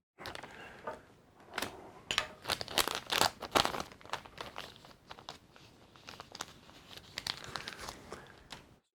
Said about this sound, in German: Und damit hätten wir alles aus den Tüten respektive aus der Box befreit.